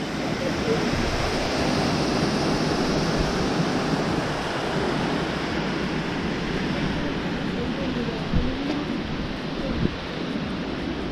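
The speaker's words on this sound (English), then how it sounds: "It's like heaps of free waterfalls, man-made waterfalls here." Water rushes steadily from a leaking dam wall, forming man-made waterfalls, a broad continuous roar close by with a faint wind-like hiss throughout.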